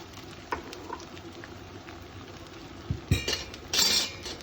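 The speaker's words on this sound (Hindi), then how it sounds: "तो गोंद को ना घी के अंदर डाल के और हल्का हल्का चलाते रहते हैं।" Gond, an edible gum, fries in ghee in a pan while a spoon stirs it gently, giving soft bubbling under light clinks of metal against the pan and a louder burst of scraping and sizzle near the end.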